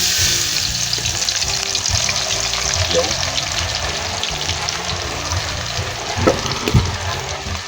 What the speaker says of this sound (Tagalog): Unahin natin bawang guys na lutuin hanggang sa mag crispy ang bawang